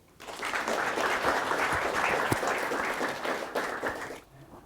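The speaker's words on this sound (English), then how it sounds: "please give Niklas and Robert a warm applause." Seminar audience applauds to welcome the speakers at a brown bag seminar on big data, a brisk burst of clapping from a modest crowd that rises quickly, holds steady, then tapers away.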